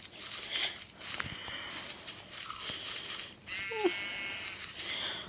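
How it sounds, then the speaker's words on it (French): Sheep bleating in the video game Minecraft Pocket Edition survival mode, a few short wavering bleats at moderate volume over soft game footsteps and background sound. "Je suis au milieu de moutons psychopathes"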